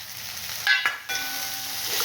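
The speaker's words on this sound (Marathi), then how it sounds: "आता वटाणे छानपैकी असं मस्त परतून घेते तेलावरच" Green peas tossed into hot oil in a pan with onion and tomato for a broccoli stir-fry hiss and sizzle steadily, with a brief clang of a utensil against the pan partway through.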